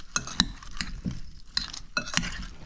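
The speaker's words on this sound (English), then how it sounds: "we're going to just stir it around here" A utensil stirs raw shrimp with spices in a bowl, giving a handful of soft clinks and scraping strokes in an irregular rhythm, close and fairly quiet with no talk.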